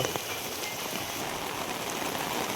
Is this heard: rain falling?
yes